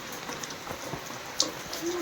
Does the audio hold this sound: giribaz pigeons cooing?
no